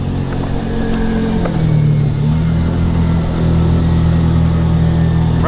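A Kawasaki Teryx side-by-side drives on a snowy highway in a blizzard, its mid-pitched engine droning steadily and loud up close, with the pitch dipping and settling as it cruises along.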